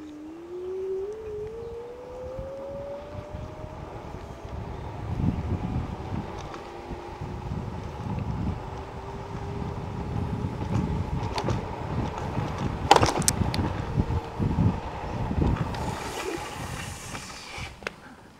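A 2021 Sealup Q19 electric scooter pulls away in third gear, its motor whine rising steadily in pitch under loud, gusting wind noise across the microphone, with a brief rattle partway through.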